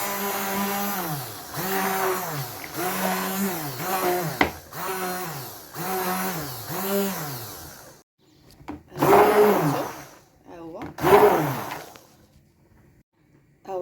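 A blender whirs in several bursts, blending cheese into a sugar-free flan mixture, loud and close, with rising and falling motor pitch, then a pause and two shorter pulses.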